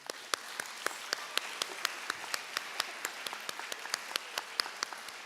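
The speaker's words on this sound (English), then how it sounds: "If we could have a huge, huge round of applause for both Rosie and Liz." Audience applause fills a school awards assembly, a steady wash of many hands clapping with sharp individual claps popping through, sustained and even throughout.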